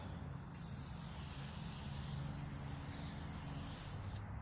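Aerosol spray hisses steadily from a spray can applying a glossy clear coat to a carved wooden home sign, a continuous close, quiet spray with brief pauses at the start and end.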